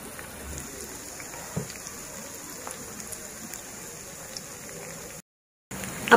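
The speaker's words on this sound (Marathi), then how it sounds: "थोडं जास्त तेल वापरून आपण या आळूवड्या फ्राय करायच्या" Alu vadi, colocasia leaf rolls, shallow-frying in a generous layer of oil, giving a steady, soft crackling sizzle with scattered pops throughout and a brief gap near the end.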